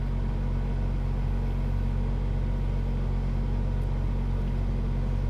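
A Volkswagen Corrado engine idles after starting, a steady low rumble with an even drone throughout, close and constant without talk.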